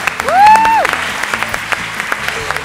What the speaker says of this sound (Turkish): ve Barış Yıldırım'a da bir alkış lütfen